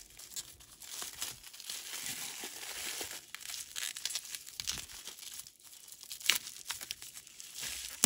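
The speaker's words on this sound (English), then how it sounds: "Just get my scissors out because I have a tough time with bubble wrap." Scissors cut plastic bubble wrap packaging up close, a quiet stream of crinkling, crackling and rustling with a few sharper snips and crunches.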